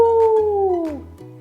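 A human voice imitates an elephant for a young baby, holding a loud, sustained tonal call that slides downward in pitch and fades over about a second, close and alone.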